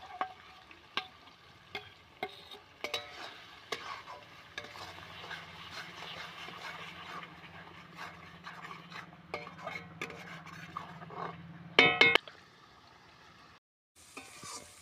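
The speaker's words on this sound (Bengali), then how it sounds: "লঙ্কা আর রসুন বাটাটা দেওয়ার পরেও ভালো করে এই যে সাইড দিয়ে ভাজা ভাজা হয়ে তেল ছেড়ে দিয়েছে" Chilli and garlic paste fries in oil with onion and tomato in a pan, a steady low sizzle broken by frequent stirring scrapes and utensil knocks, with a louder clatter near the end followed by a brief quiet.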